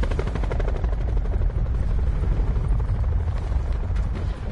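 A helicopter in a video game thumps with a fast, continuous rotor chop, loud and close throughout, with rough bursts that may be gunfire mixed in and no talk.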